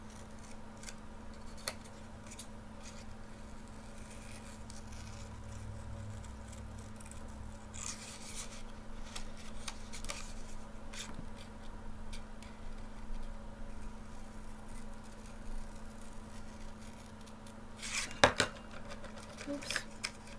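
Paper being trimmed for a snowman drawing: soft, quiet snips and scraping rubs scattered over a steady background hum, close by, with a sharper clack near the end.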